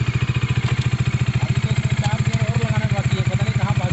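A Bajaj Dominar 400 motorcycle engine running while ridden, a loud, steady, fast pulsing thrum close by throughout.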